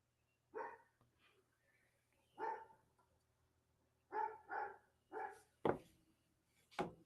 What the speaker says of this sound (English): Can you hear the dog over the road?